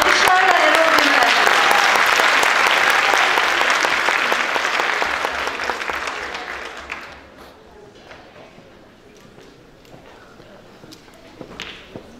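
An audience at an evening television event applauds as a guest is welcomed to the stage, with loud, dense clapping that tapers off after about seven seconds into a quieter room with a few stray claps.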